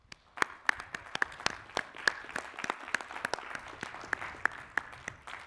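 Applause for 2020 master's degree graduates at an engineering commencement ceremony, a fairly thin, scattered clapping from a distanced audience with distinct individual hand claps rather than a dense roar.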